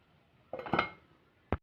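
A lid is set onto a cooking pot of drumstick thokku: a quick cluster of metallic clinks and scrapes, then one sharp clack a moment later, close and fairly quiet.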